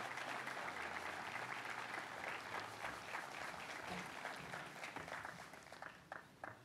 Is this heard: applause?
yes